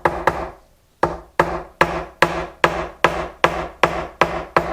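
Sharp hammer taps on wood during repair of an HD-28 acoustic guitar, about a dozen crisp strikes in an even, slightly quickening rhythm after a brief pause, close and loud with no talking.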